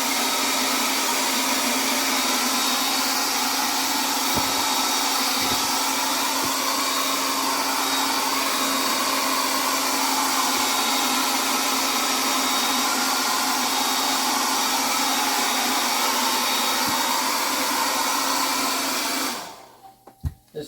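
Compressed air blows off cleaned clock wheels and parts from a Shanghai 555 clock after ultrasonic cleaning, a loud, steady, close hiss for about nineteen seconds that then cuts off abruptly.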